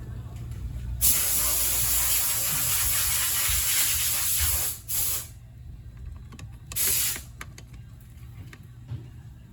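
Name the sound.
spraying cleaner on engine gasket mating surface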